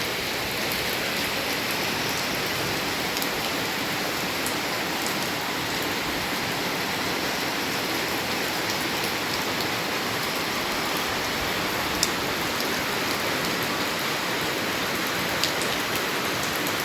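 Steady rain pouring over flooded rice paddies in rural countryside, a dense, even hiss of drops on water that holds at constant loudness throughout with no voices.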